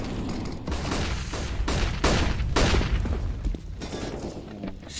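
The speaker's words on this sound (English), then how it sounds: "So many flashbangs. It was like a symphony." Flashbang grenades go off in rapid succession during a CS:GO match, loud repeated bangs and gunfire bursts piling over one another in a dense, chaotic barrage.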